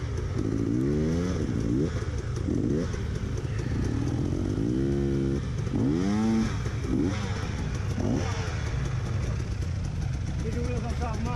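Motorcycle engines at an off-road race rev again and again, their pitch swooping up and down over a constant background drone.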